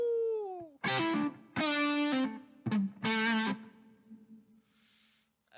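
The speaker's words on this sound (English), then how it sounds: "What's this reverb sound like?" An electric guitar plays a few sustained, distorted chords and notes in short phrases, each ringing out with a washy reverb tail.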